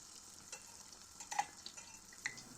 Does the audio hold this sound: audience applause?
no